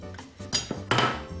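Rolling pin used as a muddler, pounding green summer cocktail ingredients in a glass, gives a few dull knocks and clinks of wood against glass: scattered taps, then two louder bursts close by.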